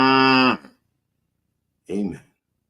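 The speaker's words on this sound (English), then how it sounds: "Can I get a moo?" Two moos in a comedic church-service setting: first a long, loud, full-throated bellow, then silence, then a shorter, rougher moo, both close and clear.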